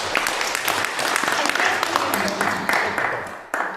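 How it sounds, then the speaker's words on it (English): Church congregation applauding after a Sunday service, a brief burst of many hands clapping with scattered sharp claps and some voices mixed in, tapering slightly toward the end. "let's together give our gratitude through applause to Irene"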